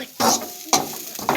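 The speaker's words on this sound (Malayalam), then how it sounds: "തേങ്ങ വറക്കുവാണ്." Grated coconut being roasted in a pan for varutharacha sambar, with a spoon stirring and scraping in three quick strokes over a soft sizzle, close and fairly loud.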